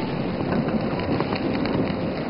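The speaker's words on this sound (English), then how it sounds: "now it's like torrential rain with thunder and lightning" Torrential rain pours steadily during a thunderstorm on a mountain in Tongren, Guizhou, a dense, even wash of drops hitting surfaces, loud and continuous with no voices.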